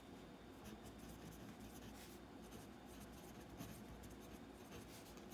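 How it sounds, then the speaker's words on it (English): Pen writing on paper while filling in a small business income form: a soft, continuous scratching of strokes, close and quiet, running steadily for about five seconds with no talk. "So that's what I'm going to write here."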